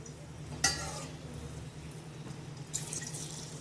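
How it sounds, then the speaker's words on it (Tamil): Cardamom and cloves frying in oil, with a faint, continuous low sizzle broken by two sharp clinks or stirs about two seconds apart, quiet and close. "ஏலக்காய் 5, கிராம்பு 5 எல்லாம் எண்ணெயில் வதக்கிடலாம்."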